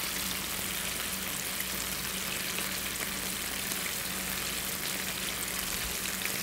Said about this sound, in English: So second time frying, deep frying, we're just going for more color